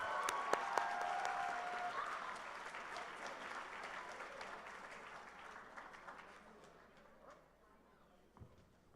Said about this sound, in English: give one more round of applause for all of our participating artists